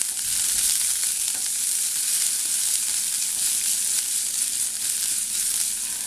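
Finely chopped ginger and green chili tempering in hot oil in a pan for Kerala seasoned buttermilk give off a loud, steady sizzle with stirring throughout, with no voices.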